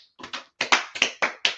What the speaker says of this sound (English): So let's clap it up for class